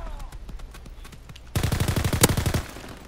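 Rapid automatic gunfire from a World War II shooter game, Call of Duty: WWII, erupts in a loud, dense burst of about a second after quieter game noise, with faint talk nearby.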